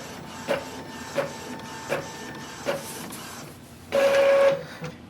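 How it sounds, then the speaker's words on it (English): Epson ET-2400 inkjet printer running a page, giving a series of short mechanical clicks and whirs at a steady pace, then a longer louder burst of feed motor noise near the end; no speech. "In my case, it has started to print."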